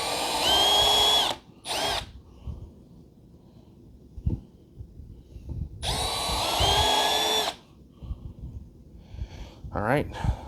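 A power drill bores holes for a cordless vacuum stand in two loud, close bursts of whining revs separated by quiet shop noise and a brief voice.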